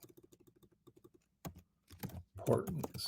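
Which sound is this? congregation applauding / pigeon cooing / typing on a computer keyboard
typing on a computer keyboard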